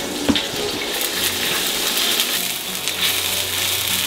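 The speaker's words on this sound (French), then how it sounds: "Poêle, revient au feu, je déglace, bouillon de bœuf." Beef broth poured into a hot pan to deglaze browned meatballs for a Lac-Saint-Jean tourtière, a steady close sizzling, hissing wash with a brief clatter near the start.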